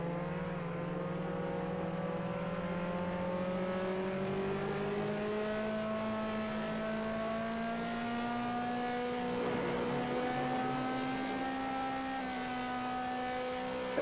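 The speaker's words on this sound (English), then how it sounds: "I'm gonna test the deolorian. It's a good car." A DeLorean in a video game speed test holds a steady engine drone that slowly climbs in pitch as it accelerates, loud and continuous with no talking.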